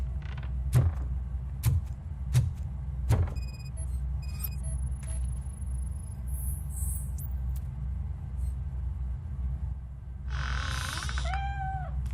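In RoboCop: Rogue City, a series of knocks and mechanical creaks with a few short electronic tones gives way near the end to a single clear cat meow, close and unaccompanied by speech.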